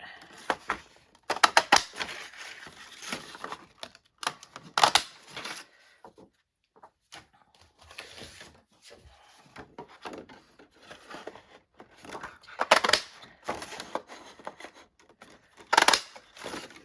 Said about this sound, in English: I do think I'm going to cut some tags from the pink